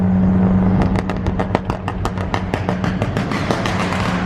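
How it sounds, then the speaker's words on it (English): A loud car engine on a night drive crackling and popping in a rapid burst of sharp exhaust bangs after a steady idle drone, close and prominent. "It's so loud, that car."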